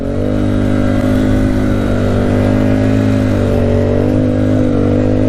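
A Yamaha Tri-Z or Arctic Cat 250 4x4 engine revs loudly and steadily up close, shifting into second gear with a sustained mid-pitched drone throughout and no talking.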